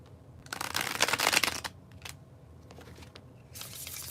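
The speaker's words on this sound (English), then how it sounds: "The bridge shuffle." Cards riffle together in a quick, crisp bridge shuffle, followed by softer taps and a second brief riffle burst, close by.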